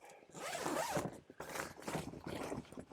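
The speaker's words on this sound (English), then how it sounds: "But we'll move on to the side windows. Gotta unzip." Zipper on the side window of an iKamper Skycamp Mini rooftop tent being unzipped outdoors, a close, loud rasping pull in a few long strokes with brief pauses between them.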